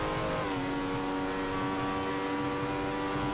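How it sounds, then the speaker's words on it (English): A race car engine in a racing video game, on the 1975 Interlagos layout, roars steadily, its pitch dropping briefly then holding a sustained high drone, loud and close with no talking. "A rare moment to enjoy the engine sounds."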